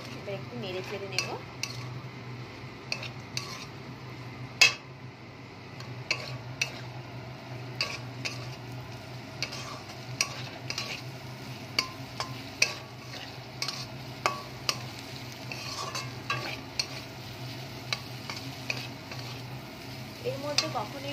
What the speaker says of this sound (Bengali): দেখো মাছগুলো আমি দিয়ে দিলাম, এবার একটু নেড়ে চেড়ে নেব